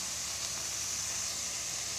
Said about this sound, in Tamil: இப்போ பொரியல் செஞ்சுக்கிட்டு இருக்கிறேன்.